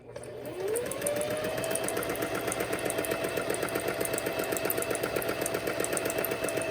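A hand-crank sewing machine stitches through paper along a curve, starting with a quick rising whir and then settling into a fast, steady, rhythmic needle clatter close by, with no voices.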